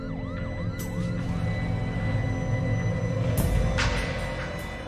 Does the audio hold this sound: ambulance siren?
yes